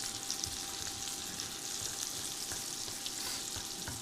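Pork steak seasoned with thyme sizzles steadily in a hot skillet, a dense continuous crackle of spitting fat with no voices.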